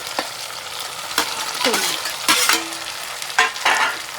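Vegetables such as eggplant and carrot are stir-fried in a pan for masale bhat, with a soft sizzle under repeated scraping strokes of a spatula at an uneven rhythm, close and fairly loud.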